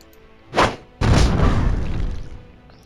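A grenade detonates in the turn-based video game Templar Battleforce: a short thump, then a loud booming blast that rolls on and fades over about a second and a half.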